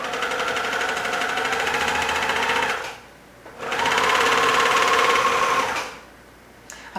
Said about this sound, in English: try not to sew over the pins, especially with a serger or overlocker